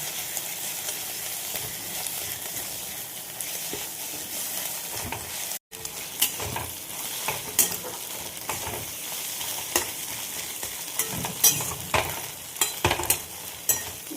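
An egg frying in a pan for Maggi noodles, a steady close crackling sizzle with brief scraping stir sounds throughout, interrupted by a momentary cut midway.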